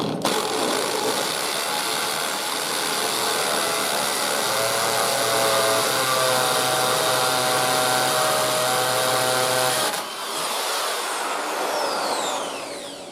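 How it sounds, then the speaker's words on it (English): A power drill bores a hole in a garage while building rim and tire storage, a loud, steady whine running for about ten seconds before the pitch drops as the bit breaks through and the motor winds down. "Now I'm going to drill it."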